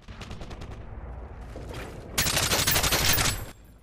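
Gunfire in Modern Warfare 3 multiplayer: a few faint, rapid shots at first, then a loud, sustained automatic burst lasting over a second before it cuts off abruptly.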